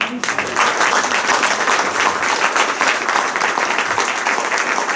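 An audience applauds after a documentary screening, a steady, dense round of clapping that fills the room from start to finish with no voices on top.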